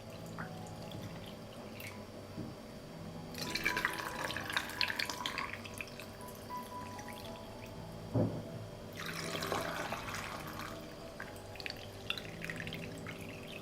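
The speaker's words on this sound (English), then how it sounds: "I pour water into the jars to cover the tomatoes." Water poured into glass jars packed with tomato salad, two bursts of close splashing and trickling separated by quieter dripping, against a low steady background hum.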